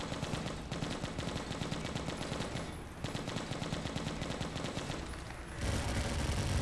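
A machine gun in the zombie shooter Left to Survive fires in rapid, continuous bursts, with a brief pause before a louder, denser stretch of gunfire.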